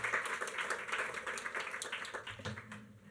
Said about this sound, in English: Let's give a big round of applause to Andy